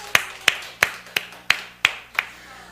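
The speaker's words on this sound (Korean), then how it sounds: "박수 한번 칠까요? 박수 한번." Clapping rings out during a church Sunday service: seven sharp, evenly spaced claps, close and crisp, with no talking in between.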